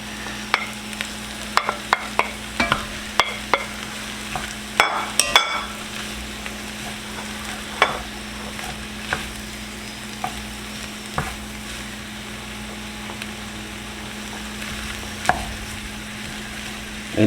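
Leftover deep-fried turkey sizzles in a chili pot while a utensil stirs and scrapes it in repeated sharp knocks over a constant low frying hiss, close by and with no talk.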